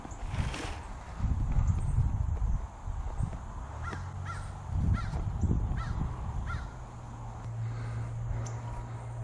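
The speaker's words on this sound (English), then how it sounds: "There's a crow crowing in the distance." A crow caws several times in the distance on a morning outdoors near a garden, faint repeated calls over low rumbling background noise.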